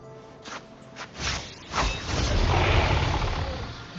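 Jinhsi's heavy attacks in the video game Wuthering Waves: a few sharp hits and whooshes lead into a swelling, sustained crashing rumble that stays loud to the end.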